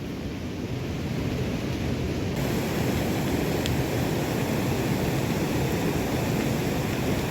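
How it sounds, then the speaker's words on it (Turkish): Steady, dense rain hisses close by without a break on a highland plateau in Turkey's Rize-Trabzon area, near a flowing stream, a broad constant wash of noise. "Dere akıyor, yağmur yağıyor, şıkır şıkır."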